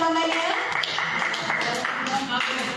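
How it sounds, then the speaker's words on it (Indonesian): Clapping for a child at a kids' church service, a dense spread of claps that runs the whole time while speech goes on over it. "Tepuk tangan buat siapa namanya?"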